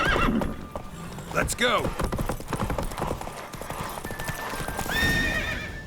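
In The Witcher 3, Geralt's horse Roach gallops with loud, rapid clip-clop hoofbeats and a neigh partway through, as someone talks over the running hooves.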